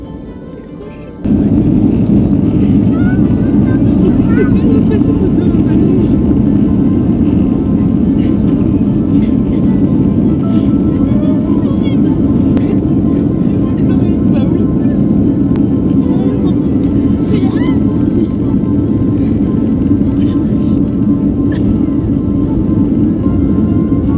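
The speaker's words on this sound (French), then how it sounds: "On va décoller." Airliner engines spool up for takeoff, a loud, steady deep roar heard from inside the cabin, rising abruptly at the start and droning on without a break.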